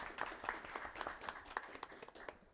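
Sparse, faint applause from a small audience at a city council meeting, individual claps distinct and rhythmic, clearly separated and not building into a dense roar.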